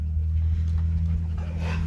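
An elderly dog frightened of thunder pants steadily close by, its fast, rhythmic breaths running over a constant low background hum with no one speaking.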